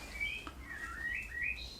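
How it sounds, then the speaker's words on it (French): Blackbirds sing in late February outdoors, with a faint run of fluting, whistled phrases rising and falling over a low, steady ambient hum. "les merles chantent"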